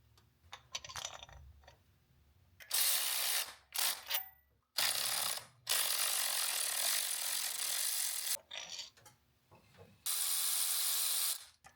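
A ratchet wrench tightens a bolt on a 12 valve diesel engine in a first-gen Dodge dually, with several loud, close bursts of rapid clicking separated by short quiet gaps and lighter handling noises.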